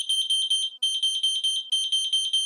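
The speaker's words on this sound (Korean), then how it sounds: "건전지를 넣고 이 가운데 버튼을 눌러주게 되면 비품이 3번씩 3번 울리게 됩니다." Carbon monoxide alarm in self-test mode, set off by pressing its centre button after fitting batteries: three groups of rapid, loud, piercing electronic beeps, each burst a quick run of pulses, with short gaps between groups and no talking.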